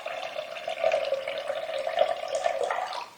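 Tap water runs steadily into a bowl of soaked chana dal being rinsed in a kitchen, a continuous close splashing rush with slight swells and no talk.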